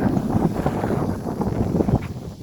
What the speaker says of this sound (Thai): เสียงลมเสียงลม